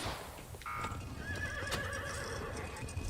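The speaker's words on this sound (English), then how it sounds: "Why is there a horse?" A horse in a video game whinnies once, shrill and moderately loud over steady game ambience, with a soft clip-clop nearby.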